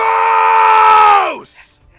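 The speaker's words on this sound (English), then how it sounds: "And I just finally kind of crack and I just scream out" A person screams out one long, loud, sustained cry close by, holding a steady pitch before it sags and breaks off.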